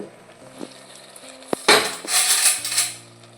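A spoon stirs jackfruit curry in a metal pot after pressure cooking, giving a couple of sharp metallic knocks followed by scraping and soft bubbling rustle near the mic.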